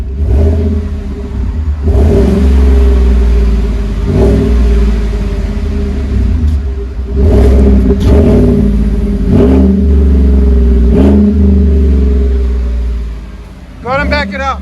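A GMC Sierra with a 5.3L V8 and aftermarket exhaust revs repeatedly, loud bursts rising and falling over a deep idle rumble, with people talking briefly near the end.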